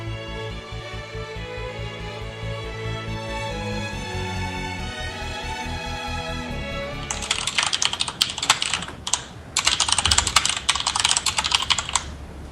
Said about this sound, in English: Your typing's louder than mine